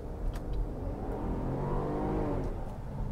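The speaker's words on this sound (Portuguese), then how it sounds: "apesar de vocês estarem ouvindo alguns barulhos aí do carro" A Cadillac SRX V6 SUV driving, the engine note rising in a steady acceleration and then easing off, heard from inside the cabin with faint clicks and rattles.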